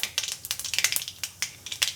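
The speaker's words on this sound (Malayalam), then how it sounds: "കടുക് പൊട്ടിക്കുക. കടുകും 2 ഉലുവയും കൂടി ഇട്ടു." Mustard seeds and fenugreek sputter in hot oil with green chillies, cooking for an okra kichadi: a close, irregular run of sharp pops and crackles with no voices.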